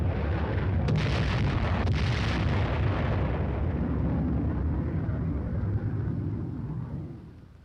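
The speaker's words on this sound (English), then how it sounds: "Once they are spotted, the first flight drops general purpose bombs." General purpose bombs dropped by aircraft explode in a long, rolling roar, loud and sustained with a couple of sharper bursts early on, fading out at the end.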